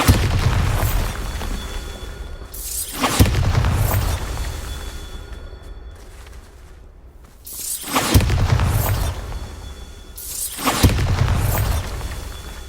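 Repeated Bombarda spell explosions in Hogwarts Legacy, four heavy booming blasts with bright crackling bursts, spaced a few seconds apart over a rumbling ambient bed, loud and close.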